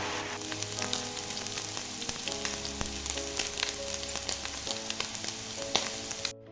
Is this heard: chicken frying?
yes